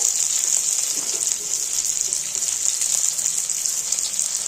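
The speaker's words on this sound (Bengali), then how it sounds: "ছোট পেঁয়াজটাকে আমি একটু লাল করে ভেজে নেব এর সঙ্গে একটু রসুনও দিয়ে দেবো যাতে রসুন পেঁয়াজ একসঙ্গে ভাজা হয়ে যায়" Small onion and garlic frying in a pan, a steady loud hiss and sizzle holding at an even level throughout with no talk.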